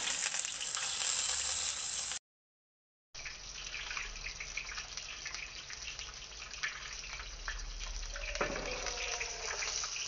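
Whole spices, mace and cinnamon, sizzle and crackle in hot oil for Godavari-style biryani, a steady near frying hiss broken by a short gap of silence, with no talk.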